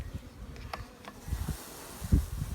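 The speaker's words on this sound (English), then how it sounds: "there's bees in the air" Honeybees fly around their colony outdoors in cold weather at about 3 degrees, giving faint buzzing passes that drift in and out against quiet outdoor background noise.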